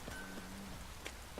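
Rain in the video game The Witcher 3, a faint, soft, steady patter with a few slightly louder drops over a quiet background.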